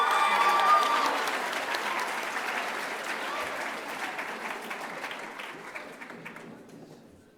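A school audience claps at a middle school awards night, a broad wash of applause that begins strong and gradually thins and fades toward the end.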